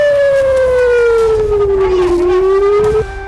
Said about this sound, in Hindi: हमलों से उत्तरी इजराइल के शहरों में सायरन बज उठे